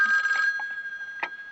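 A telephone rings with a steady electronic tone, moderately loud and unbroken for about a second and a half, with faint room noise and no voices.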